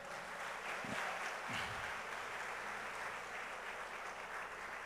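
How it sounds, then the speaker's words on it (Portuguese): A church congregation applauding at a Christmas service in Manaus, a steady wash of clapping held at an even level throughout, with faint voices beneath. "Você pode aplaudir a Deus por isso aí?"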